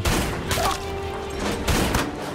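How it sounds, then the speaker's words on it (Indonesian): Bursts of heavy gunfire crackle in a noisy war film battle scene against German soldiers, with dull booms and a steady roar throughout. "melesatkan tembakan balasan ke arah tentara Jerman"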